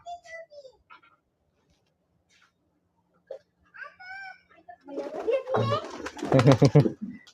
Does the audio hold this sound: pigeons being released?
yes